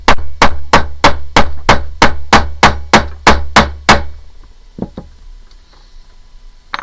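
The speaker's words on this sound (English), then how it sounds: "so I'm going to hammer and I'm going to tap and rock." A hammer strikes small silver stud earring metal on brass in steady, evenly spaced, loud close taps, about a dozen in a row, followed by a few softer, lighter knocks.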